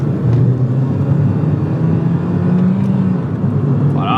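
A Peugeot 208 GTI driving along small mountain roads, a steady loud engine drone with a hum that shifts slightly in pitch as speed changes, heard from inside the car.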